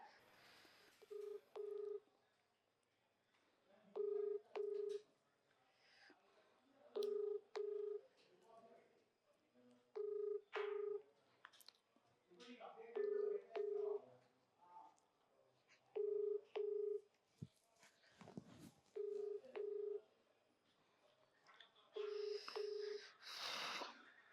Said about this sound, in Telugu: ఒకసారి ఒక అన్నకు ఫోన్ చేద్దాం